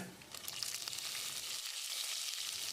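Fennel seeds, dried red chillies and curry leaves sizzling and crackling in hot oil, a steady soft frying hiss with faint pops, fairly quiet and close.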